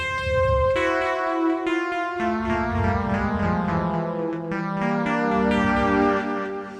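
Bright digital chords from a Roland D-50 synthesizer ring out one after another in a slow sequence, rich in harmonics, played up close with no voices.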